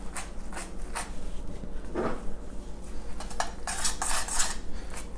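Spaghetti carbonara with egg mixture is stirred and tossed in a pan, giving repeated close metallic scrapes and clinks of utensil on cookware in an irregular rhythm over a low background hum.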